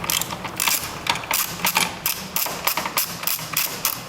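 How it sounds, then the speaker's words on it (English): A ratchet with a 10mm socket loosening bolts on the engine computer bracket of a 2008 Chrysler 300 SRT 6.1L HEMI, rapid close clicking in short bursts of repeated pawl ticks. "we're going to switch to a 10mm socket to get the rest of that out"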